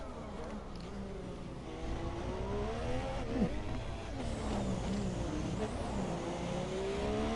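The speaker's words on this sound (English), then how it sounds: "Larry Arsenault making some noise on his way out onto the racetrack" A video game Formula 1 car engine whines and climbs through gears, revving higher as it pulls away onto the track, loud and steady with shifting pitch throughout.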